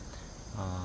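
Cicadas chirp on a forested mountain, giving a steady insect drone that swells into a clearer, brighter buzzing partway through, at moderate level over a faint outdoor background.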